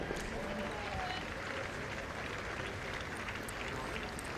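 Spectators applauding at a Commonwealth Games men's triples lawn bowls match between New Zealand and Guernsey: scattered, fairly distant clapping over a constant outdoor crowd murmur.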